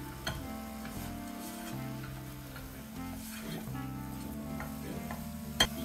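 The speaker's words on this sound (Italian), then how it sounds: "Ora dobbiamo far cuocere la polentina per un po'." Choux pastry dough cooked and stirred in a pan, a steady low scraping and shuffling of the spoon through thick paste with a faint sizzle, continuous at close range, with one sharp knock near the end.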